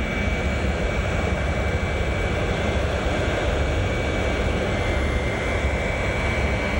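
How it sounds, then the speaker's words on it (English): Boeing 707 jet engines on Air Force One roar steadily and loudly on an airport ramp, a continuous broadband whine and rumble with no voices. "This is a Boeing 707."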